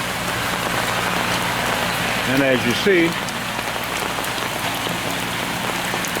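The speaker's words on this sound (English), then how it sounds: "Getting a little bit of sprinkle." Light rain sprinkles on a shed in a steady, close hiss of patter, with someone speaking briefly partway through.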